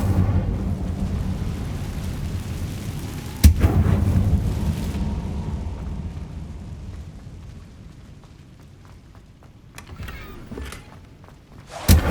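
The fire spell Incendio is cast in the video game Hogwarts Legacy: a loud, booming whoosh of flame that rolls on and slowly fades, followed by quieter crackles and a final sharp burst.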